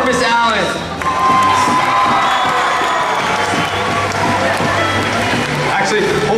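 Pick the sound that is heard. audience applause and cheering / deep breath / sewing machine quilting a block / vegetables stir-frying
audience applause and cheering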